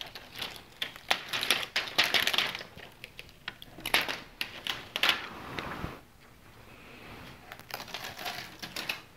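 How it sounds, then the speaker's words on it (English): A stencil is peeled back off a painted sign, producing quiet, close crinkling and tearing rustles in short irregular bursts with brief pauses between. "the most fun part of any sign is peeling back the stencil"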